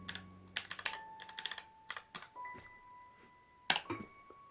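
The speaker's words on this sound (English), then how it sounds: "let's see how fast the typing is" Quick bursts of keyboard typing into a search box on an Android TV box, the T10 Pro, with irregular clicking taps in small clusters, close and crisp, along with faint electronic beeps.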